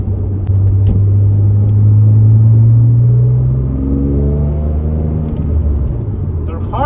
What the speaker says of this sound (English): Car's running good, so I don't know what that was about.